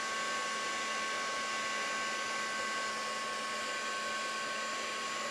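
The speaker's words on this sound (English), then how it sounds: "you're going to want to dry this with a heat tool" A heat tool blows steadily to dry ink on gloss card, a constant whirring hum with a faint high whine, unbroken and fairly close throughout.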